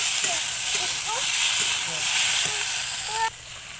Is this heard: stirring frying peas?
yes